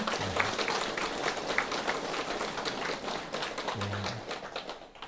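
Congregation clapping together in a Catholic church during a charismatic prayer meeting, a steady dense wash of hands lasting several seconds with faint low tonal sounds underneath.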